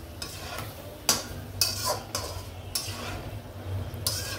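Ash gourd curry with spices being stirred and sautéed in a pan, with soft sizzling under sharp, repeated scrapes and clinks of a utensil against the pan, close by.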